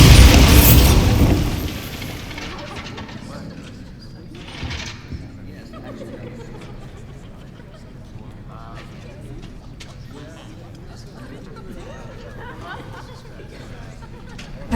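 Bombarda spell in Hogwarts Legacy on Xbox Series S, opening with a loud booming burst that fades over two seconds into a quiet background of faint clatter and murmuring voices.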